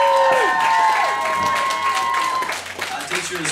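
An audience at a live event claps and cheers as a contestant is introduced, a steady wash of applause with voices calling and talking over it.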